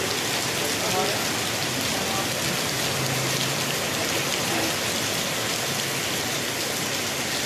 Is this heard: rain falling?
yes